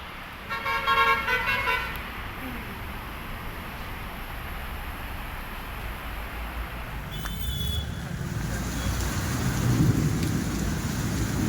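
Heavy rain pours down during a thunderstorm in Khed near Pune, a steady loud wash with a low rumble of thunder rising toward the end, some brief vehicle horn tones early on, and no talk.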